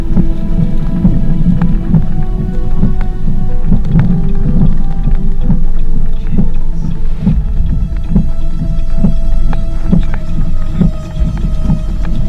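A tornado-warned thunderstorm with a long, low-hanging wall cloud, in May 2019: steady rain and deep, rolling thunder rumble loudly and continuously, with no voices.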